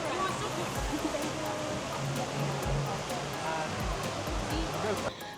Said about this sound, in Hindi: ये दुनिया का टॉलेस्ट इंडोर वाटरफॉल है जो हर थोड़ी देर बाद लाइट और म्यूजिक के साथ एक स्टनिंग शो प्रेजेंट करता है